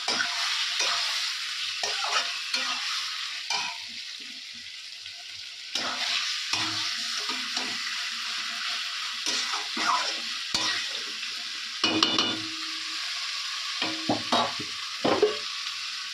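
Chicken gizzard and liver stir-frying dry in a pan with little water, a steady close sizzle broken by repeated scraping strokes of a spatula, alone without talk.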